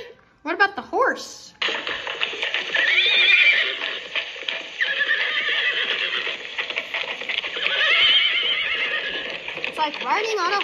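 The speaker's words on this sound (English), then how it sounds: "you can hear the hooves and the horse neighing." A toy plays a recorded horse whinny, a loud rising whinny up front followed by a long steady stretch of galloping hooves clip-clopping, then another whinny near the end.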